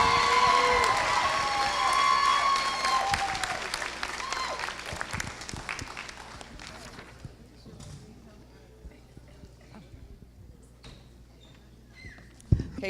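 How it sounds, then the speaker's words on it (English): A graduation ceremony crowd cheers and applauds a leadership award winner, with loud clapping and whoops at first that gradually fade away while a voice speaks over them. "So let's all cheer for this year's NEDP Leadership Award winner, Mr. Carl Jackson."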